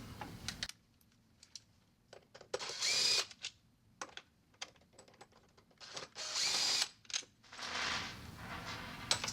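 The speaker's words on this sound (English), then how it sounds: "these 2 screws here are the last 2 to remove the powerhead" Screws come out of the powerhead on a WaterSoft Isobar II control valve: a power screwdriver whirs in short close bursts, separated by clicks and small handling taps.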